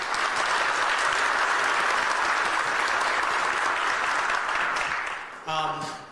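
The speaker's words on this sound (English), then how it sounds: "I had a big round of applause for the family." Loud, continuous clapping from a large audience that fades near the end, followed by a brief voice.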